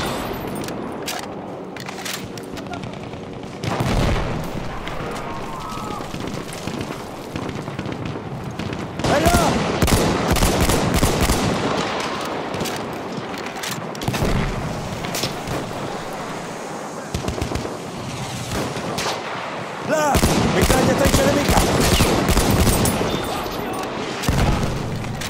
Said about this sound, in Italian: C'è una mitragliatrice nemica!